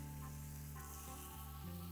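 Burger patties sizzle and crackle steadily in a hot skillet, a dense continuous frying hiss with no talking.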